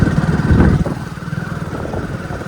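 A motorcycle pulls up at home and parks, its engine a close, steady low rumble that eases down from a louder throttle to an even idle over a couple of seconds, with no talk.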